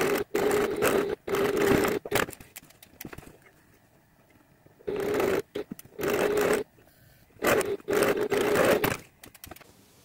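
A sewing machine stitches the legs of a handmade memory bear in loud bursts of fast, steady whirring, each lasting a second or two, separated by quiet pauses.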